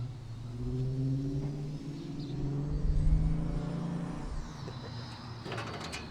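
A car arrives at an all-Chrysler car show, its engine note rumbling and building as it draws near, swelling to a peak in the middle and then settling into a steady idle, with no talking over it.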